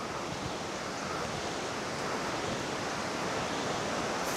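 Lauke waterfall in Nuwakot, near Kathmandu, gives off a steady, dense roar of rushing water that holds an even, close, loud wash for the whole stretch, with no voices over it.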